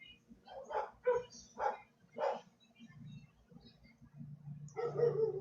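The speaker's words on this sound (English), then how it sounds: "my dogs are going crazy" Several dogs barking in short sharp bursts, close and loud, followed by lower whimpering and yipping with a voice murmuring faintly underneath.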